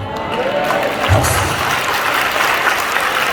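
A church congregation at a youth rally applauds, a loud, sustained roar of clapping that fills the room evenly, with some crowd voices and cheering blended underneath.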